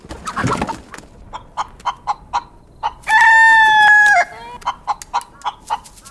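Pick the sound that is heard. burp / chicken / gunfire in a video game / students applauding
chicken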